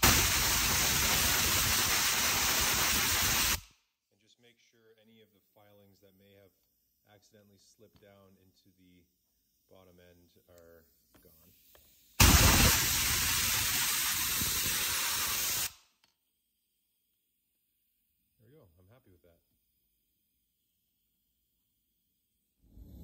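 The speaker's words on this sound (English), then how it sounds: "we're gonna use some compressed air." Compressed air blasts into a bolt hole on a small engine in two loud, hissing bursts of a few seconds each, with quiet speech in the gap between them.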